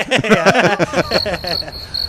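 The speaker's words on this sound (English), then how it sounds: "Crickets." A crickets-chirping sound effect dropped into a sports talk show, with a brief burst of other sound first and then a steady run of high, evenly spaced chirps for about a second.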